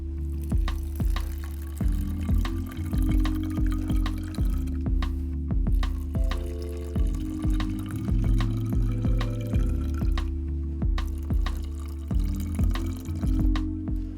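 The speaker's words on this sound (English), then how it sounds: "once you have your warm water, you'll want to add a little bit of it to the bottom of each bottle" Warm water poured into the bottom of plastic bottles for a yeast experiment, a steady trickling and dripping stream that comes and goes in short pours under a low background hum.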